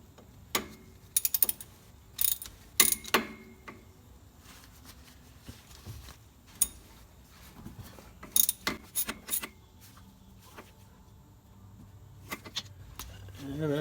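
Ratchet wrench turning a 3/8 socket adapter while installing a rear axle on an 1988 GT, heard as scattered bursts of sharp clicking and metallic clatter, close and intermittent, with quiet stretches between.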